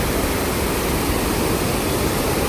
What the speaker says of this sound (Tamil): சரியான தண்ணி போகுது.